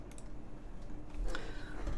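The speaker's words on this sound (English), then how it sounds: "4-finger typing" Keys clatter on a Pangea Mini mechanical keyboard during a build session, with a few quick irregular clicks over a soft background hum.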